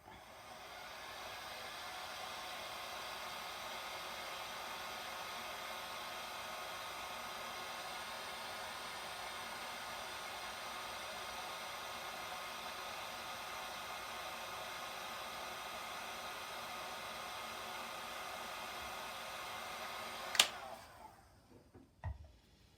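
A hair dryer blows steadily for about twenty seconds to dry alcohol ink on a surface, an even whooshing hum at moderate level, then clicks off with a brief clatter.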